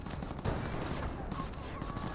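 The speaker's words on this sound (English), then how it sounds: "firing some good shots there on the commandos" Gunfire in a Company of Heroes 1 match, British commandos attacking Volksgrenadiers and an MG42 position: dense, continuous bursts of small-arms and machine-gun fire with a few sharper reports, steady and fairly loud throughout.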